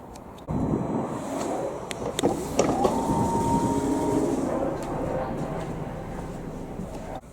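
Inside a quiet front coach of a Merseyside train, just behind the driver's cab, a low steady rumble and hum fill the carriage before departure, with a few faint clicks and knocks.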